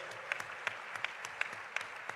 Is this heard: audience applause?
yes